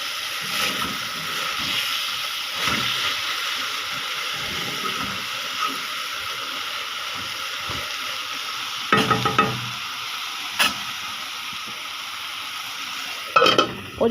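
Chicken and yardlong beans fry in a pan with a steady, loud sizzle, broken by occasional scraping stirs and a few sharper clatters of a utensil against the pan near the end.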